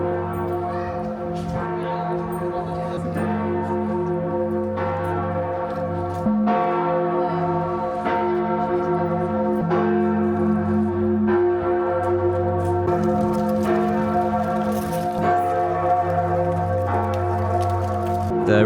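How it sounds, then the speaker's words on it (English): Church bells of the Katzenturm tower in Feldkirch ring loud and sustained, with repeated strikes layered over a continuous humming resonance and no voices. "the bell chimes on that thing will blow your head off"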